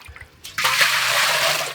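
Leftover hot water is dumped into a bucket with a sudden loud splash, followed by a sustained rushing swirl of water sloshing around inside.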